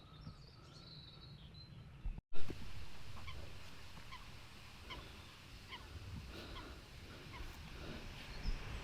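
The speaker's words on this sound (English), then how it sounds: "Quite a lot of bird life out there as well." Water birds call from across a lake in the countryside, scattered honking and gobbling cries at a distance, faint over soft outdoor ambience, with a brief handling bump near the start.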